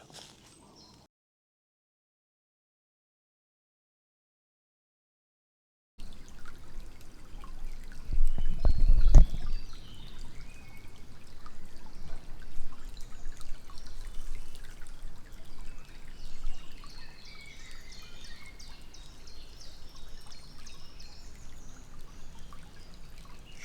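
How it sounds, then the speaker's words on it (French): A small river in a quiet forest flows softly after a silent start, with a gentle continuous trickle and one brief louder splash or bump near the start of the sound. "Je suis au bord d'une petite rivière"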